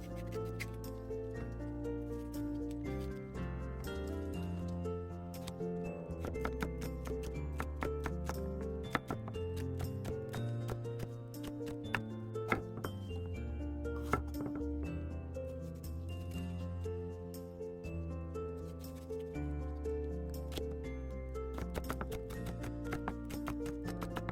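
A knife slices bell pepper into thin strips on a cutting board, giving a string of quick, light chopping taps over steady background music.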